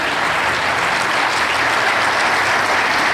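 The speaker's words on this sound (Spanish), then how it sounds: "Les pido que con un caluroso aplauso les demos ese merecido reconocimiento." An audience at a formal school ceremony breaks into warm applause, dense and continuous clapping filling the room at steady volume throughout, with no voices over it.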